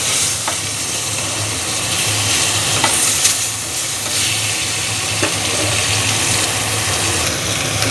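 Fish fries in mustard oil in a wok with a constant close sizzle and faint stirring, an engine-like hum underneath and no speech.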